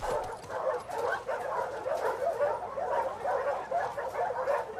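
A dog in the video game The Last of Us Part II makes a busy stream of soft yips, whimpers and short barks that carries on steadily for several seconds at moderate loudness.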